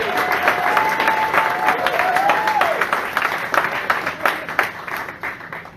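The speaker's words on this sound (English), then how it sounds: "Give them a quick round of applause." An audience at a progressive political summit applauds loudly and steadily, a dense wash of clapping that holds for several seconds before thinning slightly, with a brief voice or whistle-like tone riding over the start.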